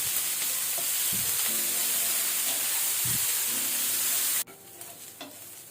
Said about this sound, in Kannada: ಈಗ ನಾವು ಮೀಡಿಯಂ ಟು ಹೈ ಫ್ಲೇಮಲ್ಲಿ ಇದನ್ನು ಒಳ್ಳೆ ರೀತಿ ಫ್ರೈ ಮಾಡ್ಕೊಳ್ಬೇಕು,